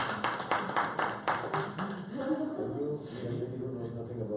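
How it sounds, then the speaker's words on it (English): Studio audience clapping during a live celebrity promotional event, a burst of crisp claps in the first two seconds that fades into chatter and overlapping talk. "I think we should clap for that."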